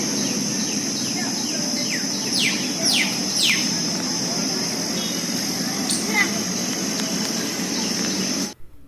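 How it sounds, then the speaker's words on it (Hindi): Birds chirping outdoors in green surroundings after rain, with several quick, bright calls scattered over a steady insect-like drone and a constant high whine. A faint voice is heard near the end. "ये चिड़ियों की आवाज़ कानों को इतनी सुकून दे रही थी, शांति दे रही थी"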